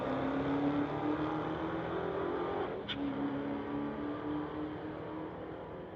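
A Dodge Hellcat and a BMW drag racing side by side on a street-legal drag strip: a steady, sustained engine roar heard from a distance, with a brief sharp click partway through and no voices.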